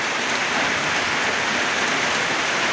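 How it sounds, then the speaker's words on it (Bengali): Heavy rain drums steadily on a tin roof, a dense, constant hiss and patter with no pauses and no voices. "প্রচণ্ড বর্ষা এবং টিনির শব্দ"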